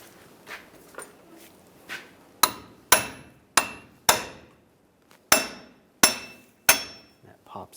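Repeated sharp hammer blows knock a stub shaft out of a 2007-2013 Chevrolet Silverado 1500 axle, about seven loud metallic strikes with ringing decay coming faster in the second half after a few lighter taps.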